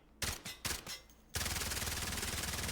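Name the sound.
gunfire from a kitted out gun, from Delta Force video game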